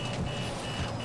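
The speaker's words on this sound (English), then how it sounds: "I hear a loud beep, is that alright?" A steady electronic beep sounds from an armored car in the game Battlefield 5, one continuous tone over a low rumbling engine, loud and close.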